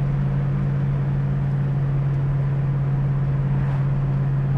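A 1966 Ford Mustang Fastback's exhaust gives a steady, smooth low drone while the car drives, a constant even rumble with no revving and no voices.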